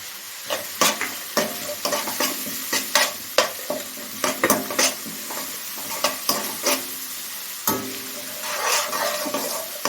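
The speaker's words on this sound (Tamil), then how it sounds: "அந்த மிளகாயும் கருவேப்பிலையும் போட்டுடலாம்" Chillies and curry leaves fry in a pan for a mutton chilli curry, with loud crackling sizzle and repeated sharp scraping strokes of a spoon in an uneven rhythm, settling into a steadier hiss near the end.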